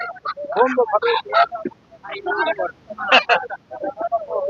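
Chickens and roosters at a poultry market cluck and squawk in short bursts close by, mixed with nearby chatter.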